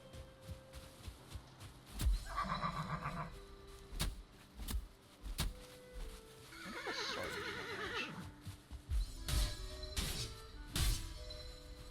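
Two bursts of horse whinnying in a video game rise and waver over scattered hoof clops and sharp thuds, with no one talking.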